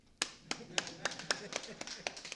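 A few people clapping in a sparse, uneven rhythm of sharp claps over about two seconds, fairly quiet and close.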